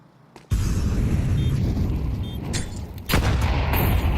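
Grenade blast in a professional Counter-Strike esports match, a sudden loud boom with heavy low rumble that sustains, then a second surge of gunfire-like noise, close and dense.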